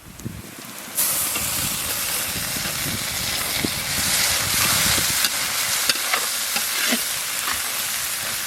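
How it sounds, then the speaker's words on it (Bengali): Onion and ginger frying in a pan for village-style rohu posto, a loud steady hissing sizzle that jumps up after the first second and carries on with occasional stirring taps. "পেঁয়াজটা অর্ধেকটা ভাজা হয়ে গেছে"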